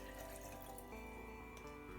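Water pours steadily into a jug, a continuous soft splashing and filling sound, faint and close, with no break.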